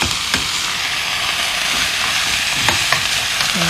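Jjajang sauce stir-frying with fried chunjang in a hot pan, giving a steady, dense sizzle with a few sharp scrapes of a utensil against the pan.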